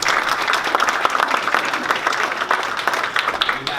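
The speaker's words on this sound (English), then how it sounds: "Let's give him a round of applause." Sustained, dense audience applause at a town hall honoring Mayor David Meyer, steady and loud throughout with many overlapping claps and no break.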